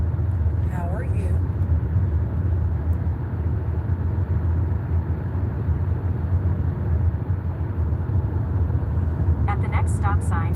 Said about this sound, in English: Still, so I'm driving to work.